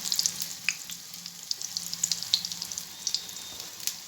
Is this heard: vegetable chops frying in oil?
yes